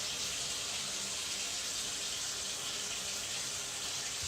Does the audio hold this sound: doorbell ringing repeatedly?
no